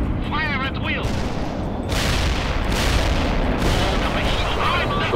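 Heavy armor and artillery firing in the World in Conflict strategy game, a dense, loud rumble of booming cannon fire and gunfire rolling continuously, with brief radio-like voice chatter near the start.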